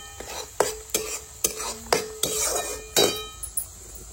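Semolina roasting in a pan for shira, stirred with a spoon: repeated metallic scrapes and clinks come roughly every half second over a soft dry sizzle, close and fairly loud.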